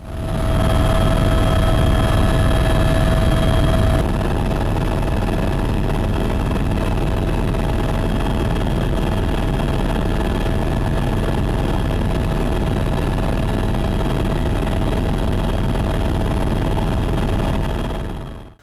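A steady, loud helicopter drone of engine and rotor noise, heard in flight over Kauai, runs unbroken from start to finish, close and constant, with no talking.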